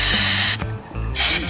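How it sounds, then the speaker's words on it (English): Two loud bursts of compressed air and spray cleaner hiss close up into a Johnson 25 hp outboard, separated by a brief quieter gap. "shoot the air through here, spray it down, see what happens"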